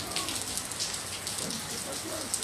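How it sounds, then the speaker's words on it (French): Heavy rain pours steadily in a dense, even hiss with scattered drops hitting surfaces, with a faint voice underneath. "Donc vous voyez, il pleut énormément."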